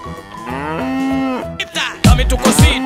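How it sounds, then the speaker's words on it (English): A cow moos loudly in one long drawn-out call, then a rougher, busier burst of sound follows close by. "Cow."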